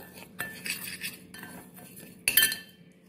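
A spoon clinks against a bowl while mixing sugar, salt and yeast for mango bread dough, with a few separate scraping and tapping strokes up close, two of them sharper and louder.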